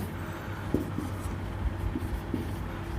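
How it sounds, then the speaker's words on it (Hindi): Chalk or marker scratches across a classroom board in short strokes, soft and close over a steady room hum, without any talking. "चलो एक और लिखते हैं।"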